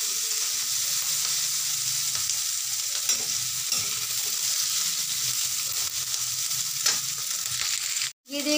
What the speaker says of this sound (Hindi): ये देखिए अच्छे से फ्राई हो गई है, जितनी भी वेजेस डाली थी अच्छे से फ्राई हो गई है।